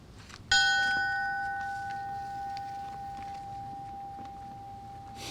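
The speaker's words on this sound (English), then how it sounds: "Ringing the bell on the family's behalf will be the Memorial Society" A single memorial bell at a fallen firefighter ceremony in Edmonton, Alberta, struck once and left ringing with a long, clear, slowly fading tone over quiet room noise.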